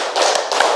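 A pair of bright, close hand claps in quick succession, the fifth count of a rhythmic group clapping exercise, with no talking over them.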